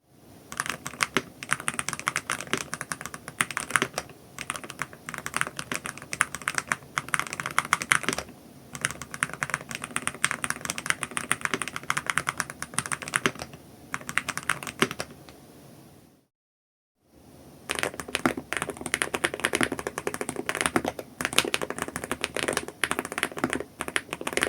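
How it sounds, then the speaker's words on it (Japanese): Lubed Hall-effect keyboard switches mounted on a metal plate produce dense, continuous clacky typing up close, a rapid irregular stream of keystrokes with one brief pause before typing resumes, no voices. "金属製のプレートと組み合わせるとハキハキと気持ちいい打鍵音になります"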